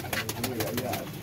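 Pigeons coo in a bird keeper's flock, soft repeated throaty calls close by, blended with a busy background murmur.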